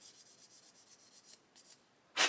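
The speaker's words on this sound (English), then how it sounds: "just nice flat hard sanding stick and just sand away" Flat hard sanding stick rubbed on a plastic bulkhead of a 1/32 scale Boulton Paul Defiant Mk.1 model, about a dozen quick even rasping strokes, close and soft, then a brief pause and a louder scrape.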